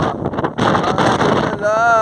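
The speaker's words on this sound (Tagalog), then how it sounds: "napakakas ng hangin" Strong wind buffets the microphone on a mountain, a loud, steady rumble, and a voice speaks over it throughout.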